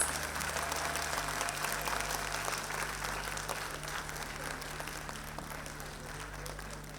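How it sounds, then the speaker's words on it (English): A crowd claps at the annual day function of Rassaz International School in Mira Road. The applause stays full and continuous, fading slightly toward the end, with a faint hum underneath. "Let's give them a huge round of applause."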